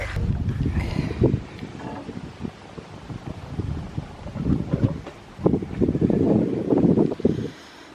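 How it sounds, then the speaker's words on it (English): Breezy wind buffeting a microphone beside a narrowboat canal lock on the Wendover Arm, coming in loud, rumbling gusts that ease briefly and then strengthen again toward the end. "Because it's a bit breezy today, the locks keep coming open."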